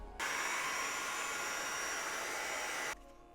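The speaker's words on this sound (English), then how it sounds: "we're going to take a heat gun" A heat gun blows steadily on foam chain maille, a loud constant whoosh that switches on and cuts off after about three seconds, heard alone.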